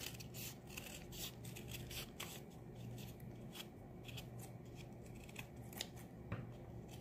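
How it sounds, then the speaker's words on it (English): Scissors snip and rasp through a thin cardboard egg carton, a run of quick cutting strokes close up and quiet, with no one speaking. "now we're gonna take our scissors and we're gonna cut the egg carton."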